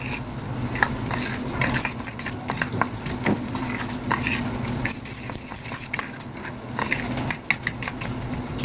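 Food is mixed in a pan with green chilli and a little chilli powder, giving a continuous low sizzle with frequent soft scrapes and clinks of a utensil, near and unaccompanied by talk.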